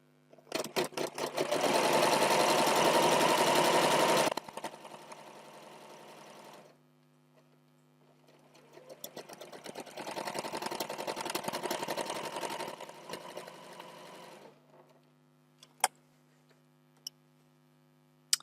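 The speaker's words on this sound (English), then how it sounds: "So I'll put my fabric underneath my presser foot, lower my presser foot and stitch along this edge." A sewing machine stitches quilt fabric along an edge for four-patch quilt blocks, running in two loud, steady bursts of rapid needle chatter separated by a pause, followed by a few sharp clicks.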